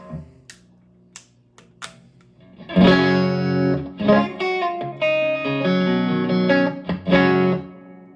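Electric guitar played clean through a Luna 15W prototype amp with reverb: a few sparse picked notes, then full strummed chords ringing out with a lush, spacious tail, loud and alone.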